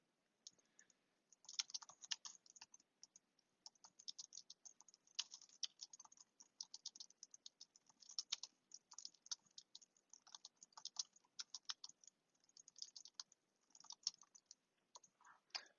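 Quick, light typing on a computer keyboard produces a continuous patter of close, crisp key clicks in uneven bursts with short pauses, with no talking.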